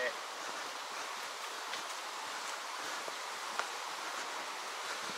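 Water runs over a small rapid in a creek, a faint steady hiss and rush of flowing water heard from a short distance, continuous and even.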